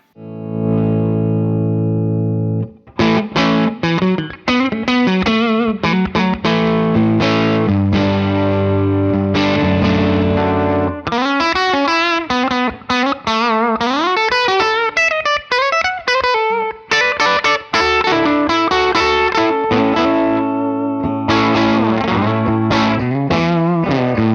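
Overdriven electric guitar with custom wound Lollar Imperial pickups, played with effects, ringing chords and lead runs with chorus and distortion, loud and continuous.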